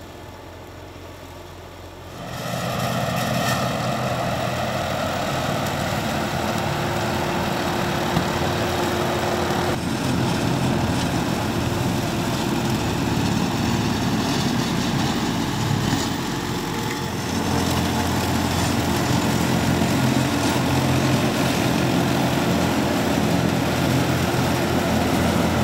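Tractor pulling a 10-foot batwing mower along ditch banks and a barn lot, with a steady, loud engine drone that rises after a couple of seconds and holds continuous throughout.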